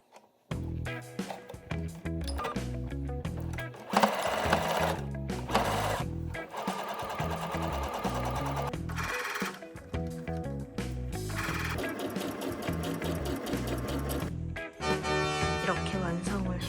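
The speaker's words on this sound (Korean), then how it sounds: "여기만 이렇게 안으로 말아서 재봉틀로 박아주도록 하겠습니다." A home sewing machine stitches the rolled hem of a thin curtain in a run of whirring bursts, some short and some several seconds long, separated by brief pauses and soft handling noises, close and clear.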